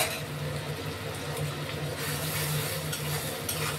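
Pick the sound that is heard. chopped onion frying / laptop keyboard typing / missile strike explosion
chopped onion frying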